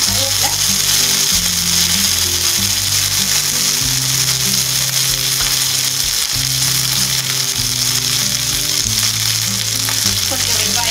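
Loud, steady sizzling and crackling of mustard seeds, urad dal and curry leaves frying in hot oil, close up and continuous, with an intermittent low mechanical hum underneath.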